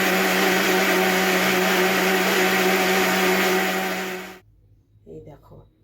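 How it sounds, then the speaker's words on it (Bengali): A kitchen mixer grinder churns cream into butter with a loud, steady whirring drone that runs continuously for about four seconds, then cuts off abruptly, leaving brief quiet sounds afterward. "মিক্সিতে একটু বেটে নেব, নিয়ে তারপর মাখনটা তোলাটা ইজি হয়ে যাবে"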